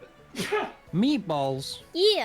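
A sharp sneeze bursts out during a tense co-op round of Keep Talking and Nobody Explodes, close to the mic and mixed in with players' chatter.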